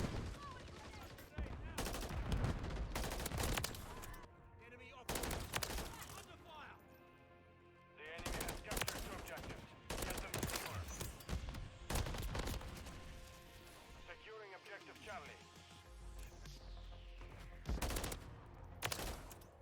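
Burst-fire gunshots from a Holger 556 rifle in Modern Warfare 3, loud clustered volleys in several separate bursts with short quiet gaps between them, alongside other in-game gunfire and effects.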